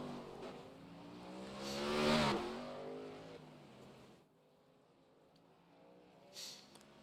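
A NASCAR race car engine in a racing video game drones and swells as it accelerates, peaking loudly mid-clip, then drops to a faint hum before a brief rise near the end.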